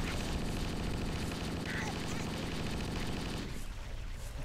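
Enemy gunfire in Halo rattles in a rapid, sustained stream of loud automatic shots, layered over dense battle noise and cutting off sharply near the end.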